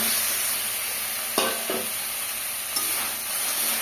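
Small rohu fish pieces sizzle steadily as they fry in spiced masala in a pan, with a few scraping stirs of a spatula over the constant hiss.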